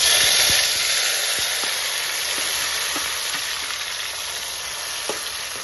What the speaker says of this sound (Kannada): ಇವಾಗ ಎಣ್ಣೆ ಕಾಯ್ದದ ಚಂದನಾಗಿ. ಈಗ ಟೊಮಾಟೊ ಹಣ್ಣು ಹಾಕೊಂಡ್ಬಿಡ್ತೀನಿ ನಾನು.